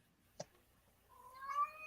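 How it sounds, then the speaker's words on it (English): A cat meows once, briefly and fairly close, then lets out a longer drawn-out rising meow toward the end, with a quiet room behind it. "Oh, kitty's meowing."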